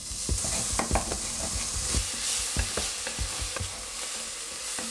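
Bacon sizzles and fries in a pan as a steady bright hiss, broken by frequent scraping and stirring knocks against the pan. The cooking is close and there is no talk.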